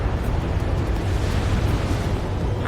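A missile launch and rumbling explosion in the Ace Combat 7 combat flight game, heard as a dense, steady low roar that holds without letup through the whole stretch.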